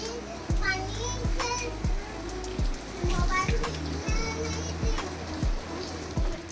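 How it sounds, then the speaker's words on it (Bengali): Rain falling steadily outdoors during a two-day monsoon spell, a soft, even wash of drops. Children talk and play nearby, and scattered low clunks come and go. "দেখেছো শুধু বৃষ্টি হচ্ছে"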